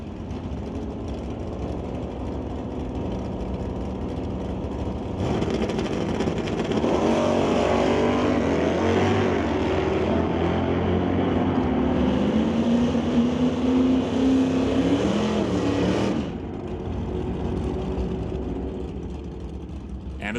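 Drag race cars run side by side down the strip at an ET series pro race, one entry a Malibu wagon, a loud sustained engine roar that swells in the middle, under faint background chatter.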